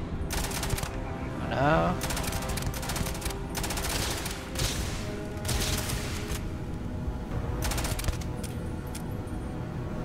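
Shotgun fire in the video game Starfield, a run of loud broadband blasts and short volleys in quick succession, with someone talking over parts of it.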